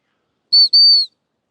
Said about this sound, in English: So when she hears the whistle, she needs to move towards me.